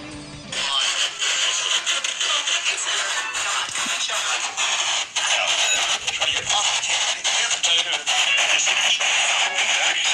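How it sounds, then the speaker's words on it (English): Continuous loud rustling and scraping close up as microphones on a ghost-hunting rig are moved closer, with bumps and handling noise throughout. "that was the sound of us putting the mics closer to it"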